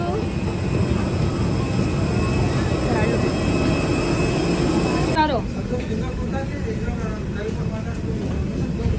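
Inside a passenger plane on a flight to Goa, a steady, loud cabin rumble and whoosh runs throughout, with people talking over the drone.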